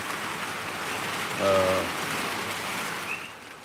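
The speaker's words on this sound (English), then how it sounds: "that rain is coming down" Heavy tropical rain pours down steadily in Mountain View, Hawaii, during a prolonged deluge, a constant dense wash of noise with a brief louder swell partway through and no talk.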